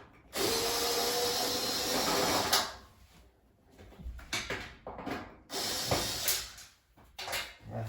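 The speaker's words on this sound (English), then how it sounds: "Now we want to take these bolts off to get into the machine." Power drill or impact driver backing bolts out of a Whirlpool or Maytag electric dryer cabinet, one loud sustained whir for about two seconds, then quieter clicks, clunks and short bursts of handling noise.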